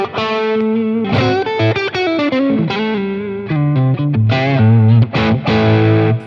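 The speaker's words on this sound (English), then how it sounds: "you can just turn the drive up a little bit." Electric guitar through a Boss Katana amp with the drive turned up a little gives a warm overdrive tone, with loud chords and single notes ringing close and alone, without talking.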